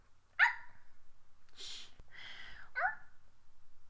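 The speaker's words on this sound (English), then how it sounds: "And this is my dog." A small dog, apparently a Yorkie, gives two sharp barks or yaps close by, separated by a breathy hissing sound, with a quiet pause between them.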